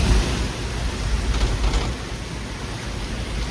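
A strong wind blows through light drizzle in a loud, steady, close roar of wash-like noise that eases slightly partway through, with no one speaking.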